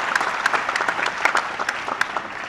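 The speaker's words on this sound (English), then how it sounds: "allowing you to give them a big round of applause" Audience applause at a university spring commencement ceremony, a dense, steady wash of many hands clapping from a large crowd, sustained throughout.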